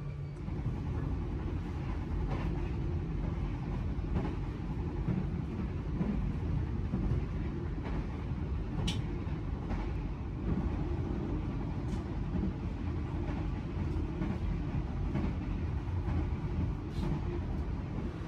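Steady low rumble inside a Ranggajati economy-class passenger train standing at Kebumen station, with a continuous engine-like drone and faint scattered clicks throughout, no voices.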